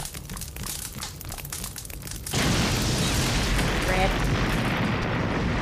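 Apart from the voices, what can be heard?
fire and explosion in video game Sakuna: of Rice and Ruin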